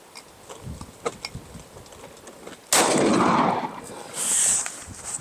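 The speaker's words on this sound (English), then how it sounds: "So we're gonna go ahead, shoot this one and see if this can stop M2AP." A rifle fires an M2 AP round into homemade body armor of folded polyethylene layers: after a few seconds of faint rustling, one sudden loud, sharp blast rings out and trails off with a lingering, hissing echo.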